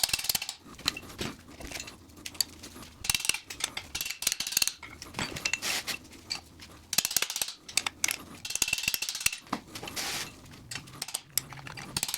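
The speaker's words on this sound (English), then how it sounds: "then I'll hit them with the impact driver and drive them out" A hand impact driver works loose the bolts on a T5 transmission tailshaft, giving irregular metallic clanks, ratcheting clicks and sharp hits in uneven bursts, fairly close and alone.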